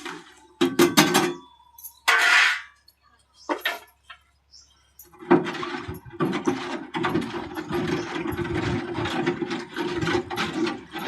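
Scraping and clinking of a utensil stirring lime into water inside a metal pot, in uneven bursts, with a soft voice murmuring underneath.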